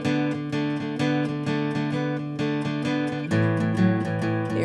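Acoustic guitar chords strummed in a steady, even rhythm, each strum ringing clearly, with a chord change near the end.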